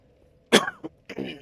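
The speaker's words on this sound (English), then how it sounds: "Sorry for the cough." A single harsh cough bursts out close and loud, followed by a shorter catch and a rougher throat-clearing cough, in a quiet setting with no talk.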